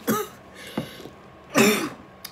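A person coughs and clears their throat in two short harsh bursts, a brief one near the start and a louder, longer one later, heard close up with quiet pauses in between.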